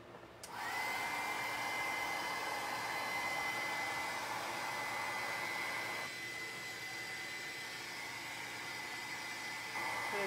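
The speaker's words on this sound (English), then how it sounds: "I'm gonna go back in with my heat gun. And I'm going to dry up this green" A heat gun dries green watercolor paint on a mixed media scrapbook layout. A loud, steady whooshing blow starts just after the opening and runs continuously to the end, dipping slightly in level about midway.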